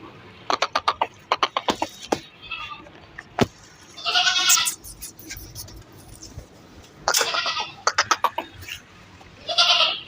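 Young goat, about eight to nine months old, bleats repeatedly at a busy goat market in New Karachi, loud quavering cries in several bursts with someone talking between and under them.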